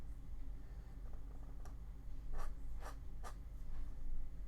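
An Esterbrook Falcon pen inking a comic drawing on paper, with a few soft scratchy strokes, close and quiet, over a steady low room hum.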